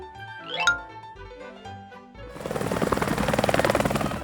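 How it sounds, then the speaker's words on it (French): A helicopter's rotor chops in a rapid, steady pulse, starting abruptly after a brief musical jingle and holding loud to the end. "L'hélicoptère."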